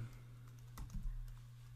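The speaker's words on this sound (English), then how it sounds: "I need to type in this CAPTCHA." Keys clack on a computer keyboard as a CAPTCHA is typed, a short burst of quiet, close keystrokes over a steady low electrical hum.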